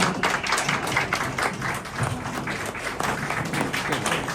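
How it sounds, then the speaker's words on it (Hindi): Crowd clapping at an eye hospital event welcoming a guest, dense and steady applause that carries on at an even level for the whole stretch. "जोरदार तालियों के साथ स्वागत।"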